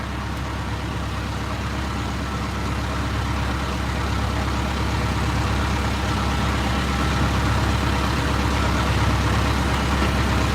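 Fishing boat engine idling in an Alaskan fishing game, a loud steady low rumble that drones on without pause.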